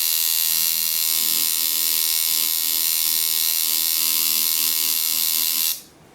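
A tattoo machine runs while lining skin, giving a steady, loud, high-pitched electric buzz that holds evenly for about six seconds and then cuts off abruptly, with no talking.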